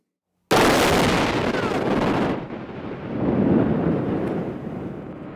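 A huge test explosion set off for a WWII myth experiment bursts in with a sudden, loud boom, then a long rumbling roar that dips and swells again as the blast rolls on, with no voices over it.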